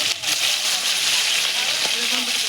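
Fish fries in hot oil in a kadai, giving a steady, moderately loud hiss and crackle across the whole moment, with faint voice-like murmurs underneath.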